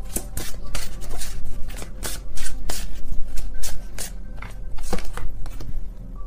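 A deck of tarot cards being shuffled by hand, with repeated crisp riffling bursts and papery flutters in quick succession, close and fairly loud, with brief pauses between bursts.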